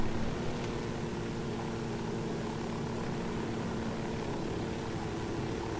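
A helicopter flies in the video game Ghost Recon Wildlands, giving a steady, droning rotor-and-engine roar that holds evenly throughout. It is loud and close, with no talking.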